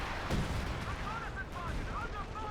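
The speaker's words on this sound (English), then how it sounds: "Howitzer is operable once more here for Caesar. Now the barrage off." Howitzer artillery barrage in the video game Company of Heroes 2, heavy booming fire under busy battle noise with scattered impacts and a whistling shell streak, while a voice talks over the top.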